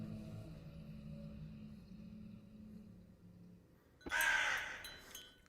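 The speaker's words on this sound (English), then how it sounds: "A crow cries out right by the everlasting oak." A crow caws in the video game The Mildew Children beside an everlasting oak. A low droning ambience runs quietly for about four seconds, then one loud, harsh caw bursts in near the end.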